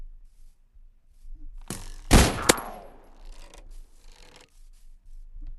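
A burst of gunfire in a Minecraft zombie apocalypse game, one loud sharp shot followed by a rapid cluster of cracks, then fading game noise.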